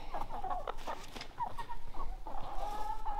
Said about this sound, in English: Chickens are doing great.